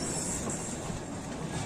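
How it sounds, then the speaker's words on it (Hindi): A small children's ride-on train runs along its tracks at Mithila Haat, giving a steady, even rumble and rolling clatter with a faint high squeal that stays constant throughout, with no voices. "पटरी पर चलै छै रेलगाड़ी।"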